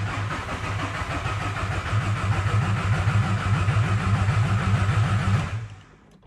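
Vehicle engine cranking and failing to start after its fuel lines were off, with a faulty starter exciter wire: a loud, rhythmic, rapid churning for about five seconds that then cuts off abruptly.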